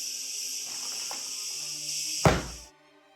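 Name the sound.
cicadas chirping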